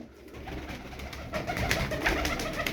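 Turkish play pigeons cooing in a loft make soft, low, repeated coos, fairly close and moderately quiet, with faint rustling and no speech.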